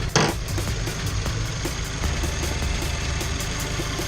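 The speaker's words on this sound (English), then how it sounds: "This is a 2-liter boxer engine with a fuel injected turbo right here" A 2014 Subaru WRX 2-liter turbocharged boxer engine idles up close with a steady, slightly uneven mechanical rumble and ticking, after a brief sharp knock at the start.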